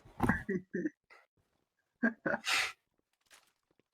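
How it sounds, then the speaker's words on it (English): A loud, explosive sneeze bursts out once, close and forceful, with a gasp and short breathy intakes just before it and brief vocal noises around it during an online gaming session. "That's called a power sneeze."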